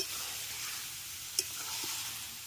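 Chicken pieces stirred and fried with spices in a pan for chicken kosha, with a steady background sizzle, a gentle stirring rustle and a couple of sharp clicks of the utensil against the pan.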